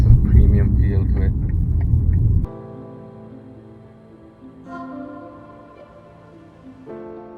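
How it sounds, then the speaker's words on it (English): A BMW M3 Competition gives a loud, deep rumbling burst for a couple of seconds, then settles into a quieter, steady tonal engine hum while driving. "my first drive in the BMW M3 competition"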